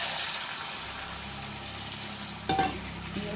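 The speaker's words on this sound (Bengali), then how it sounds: "এইবার দিয়ে দেবো কিছুটা গরম জল" Hot water is poured into a pan of vegetarian cauliflower curry, fulkopir rasa, over a steady close sizzle, with a sudden splash and surge of bubbling near the end.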